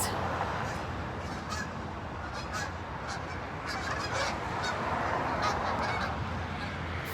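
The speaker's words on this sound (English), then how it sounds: "Fly away from the fire, geese." Geese honk repeatedly as a flock flies off outdoors, the calls steady and moderately loud over a constant background rumble of passing trucks, with no talking.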